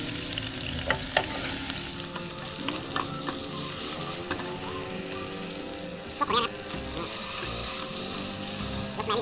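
Beef frying with rosemary in a pan, stirred steadily; a continuous close sizzle with scraping stir clicks and a few sharper clanks of a utensil against the pan, with no talk.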